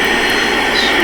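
Airplane engine drones steadily in a flight video game, a continuous broad roar with no distinct events over the short span, with faint talk underneath.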